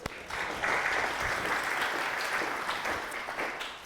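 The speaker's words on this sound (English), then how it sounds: "Let's just give everybody a big round of applause." A church conference audience breaks into steady applause, a dense wash of many hands clapping that swells quickly and holds at a constant level, heard from a moderate distance with no talk over it.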